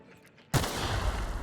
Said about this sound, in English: Oh, I need to shoot them?